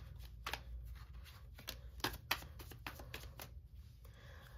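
Tarot cards drawn and shuffled from a deck, faint soft papery slaps and flicks in an irregular scattered rhythm, quiet and close with no talking.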